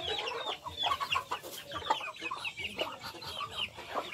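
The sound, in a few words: chickens clucking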